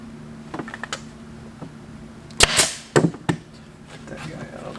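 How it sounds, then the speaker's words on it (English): A staple gun fires staples into an antique dining chair seat during reupholstering, several sharp loud snaps close by, with lighter handling clicks before and after. "I'm just going to fire a couple staples in here."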